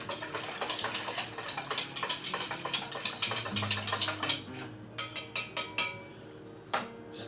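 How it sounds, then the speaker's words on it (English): Jamu being stirred in a container, a steady run of quick scraping, clinking strokes of a utensil against the sides, followed by several sharper separate taps near the end. "Stir it up again."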